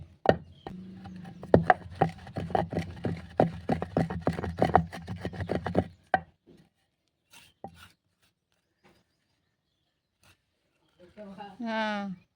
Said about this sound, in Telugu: నేను రోడ్లో చేసుకుంటున్నాను